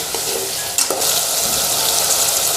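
Chicken pieces with turmeric fry in a pan, dhaba style, a loud continuous sizzle with stirring scrapes and a sudden burst of hiss partway through.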